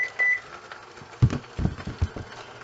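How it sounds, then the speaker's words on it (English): Timer on a Pampered Chef Electric Pop & Stir kitchen appliance beeping, a few short tonal beeps early on, followed by clattering and thumping kitchen sounds, moderately loud and close. "There goes my timer."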